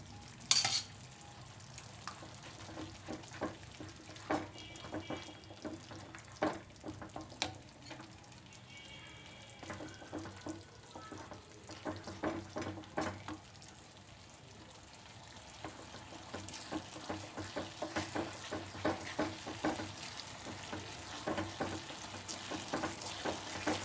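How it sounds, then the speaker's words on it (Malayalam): Banana halwa with ghee being stirred in a pan, soft scraping strokes and a faint sizzle repeating steadily at low volume with no talking. "നന്നായിട്ട് ഇളക്കി കൊടുക്കാം."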